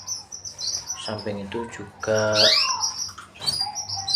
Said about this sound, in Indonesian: dia akan bunyi gacor atau ngerek sambil nurunkan sayapnya, itu ngerek ya